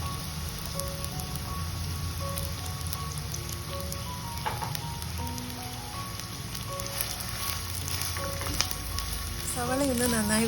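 Two medium onions added to hot oil with fenugreek in a clay pot give a steady, faint sizzle and crackle, with light stirring and brief clinks, continuing alone for about ten seconds.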